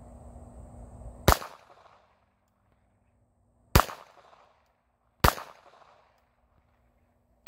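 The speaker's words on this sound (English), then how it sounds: "This first trigger pull with this weapon, guys, is a long," Bersa Thunder 380 pistol fired on a range at a black target: three sharp, loud shots spaced a couple of seconds apart, each trailing into a short decay, with a fourth report just starting at the end.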